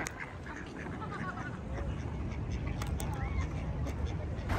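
Ducks quacking in Madrid, several short nasal calls scattered across a steady bed of outdoor crowd noise and wind, moderately near, with voices in the background.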